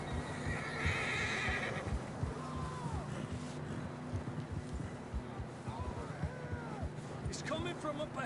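A horse whinnies in Red Dead Redemption 2 amid steady wind and outdoor ambience, with hooves clopping underneath and faint talking in the background.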